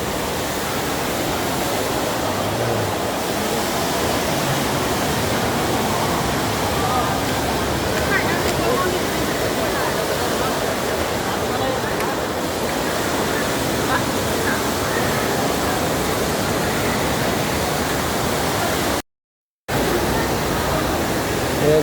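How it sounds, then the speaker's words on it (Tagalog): Strong gushing water from a fountain at Marina Bay Sands in Singapore, a steady, dense broadband rush that fills the whole clip, with one brief dropout near the end. "lumakas na yung tubig niya"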